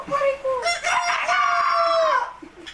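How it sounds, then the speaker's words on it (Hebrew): A rooster gives one long crow, rising and then holding a drawn-out note before trailing off. It is loud and close, with a faint trace of background sound afterward. "האם נשמע את התרנגול שוב? כן, תרנגול."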